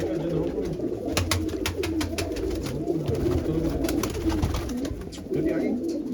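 A blue pigeon coos in soft, repeated rounds, fairly close, with faint background sounds and a possible voice in the distance.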